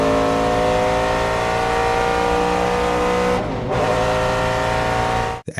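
A tuned 4-liter naturally aspirated V8 in a BMW E46 M3 GTR race car roars steadily at high revs, dipping briefly mid-pass before surging again and cutting off abruptly at the end.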